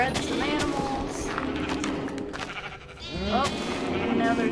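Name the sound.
sheep bleating in video game Minecraft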